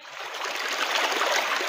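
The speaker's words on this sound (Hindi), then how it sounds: "ए देखि पारछि झरणा" A forest waterfall rushes steadily, a dense, even wash of falling water that holds at a constant moderate level throughout with no voices.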